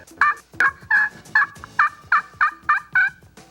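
A wild turkey gobbles on public land in Louisiana, nine sharp, loud gobbles in quick rhythmic succession that sound close and clear.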